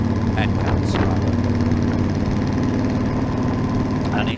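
A Yamaha Super Tenere motorcycle idles steadily through a newly fitted Delkevic 343mm oval exhaust with carbon fibre end caps and baffle, a loud, continuous low rumble with a few faint higher sounds over it.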